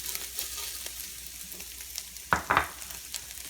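Sugar sizzling in a hot pan while being stirred for baked beans, a soft continuous fry with scattered crackles and a couple of louder scraping clunks from the spoon near the middle, no talking.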